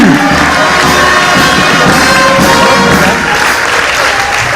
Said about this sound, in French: Levez-vous et on les applaudit.